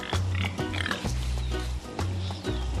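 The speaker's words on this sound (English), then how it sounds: "These are Tamworth pigs." Tamworth pigs grunting and oinking close by, a run of short, deep snorts and grunts repeating in quick succession without talk.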